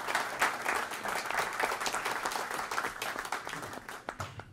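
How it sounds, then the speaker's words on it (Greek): An audience in the Kefalonian House in Astoria applauds Alexis after a speech: steady, dense clapping from a crowd, fairly near, gradually thinning toward the end. "πρέπει να χειροκροτήσουμε τον Αλέξη"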